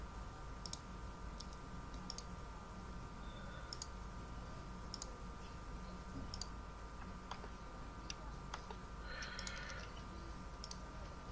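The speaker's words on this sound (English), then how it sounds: "I finish clicking stuff here." Computer mouse clicks, faint and sparse, arriving at irregular intervals over a quiet, hissy background.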